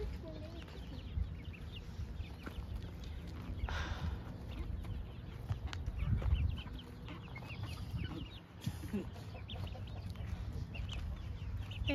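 Baby chickens peep and cluck outdoors on a hillside, with scattered chirps over busy background noise and voices.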